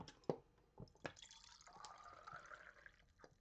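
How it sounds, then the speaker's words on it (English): Fresh water trickles and drips into a water jar, with quiet splashes and a few sharp drops over a soft pouring sound, faint and close. "Some fresh clean water into this."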